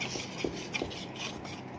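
Faint, rhythmic scraping and swishing as a spoon stirs thick vanilla cake batter around a bowl, with soft knocks against the side.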